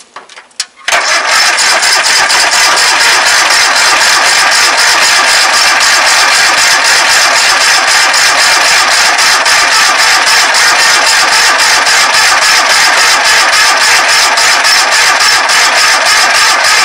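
A Kohler Magnum 691cc opposed-twin engine, newly swapped in with a new exhaust, catches after a brief crank and settles into a loud, steady, evenly pulsing idle that runs without a break and with no talking.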